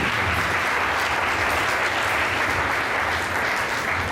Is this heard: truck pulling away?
no